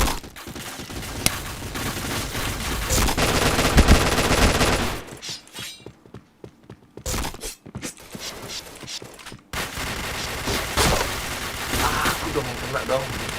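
Rapid bursts of gunfire in a Nobunaga Katana match, loud fusillades that drop out midway for a few seconds and then resume, with a voice talking over the shots.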